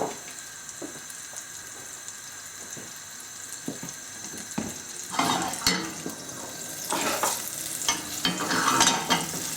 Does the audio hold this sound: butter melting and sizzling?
yes